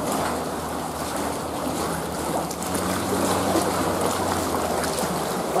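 Choppy sea water slapping and washing around a kayak off the Dorset coast near Old Harry Rocks, a dense, continuous splashing rush close by with no voices.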